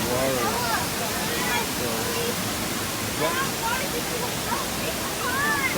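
Looking Glass Falls, a waterfall near Asheville, North Carolina, gives a steady, loud roar of falling water that fills the whole scene, while people talk over it.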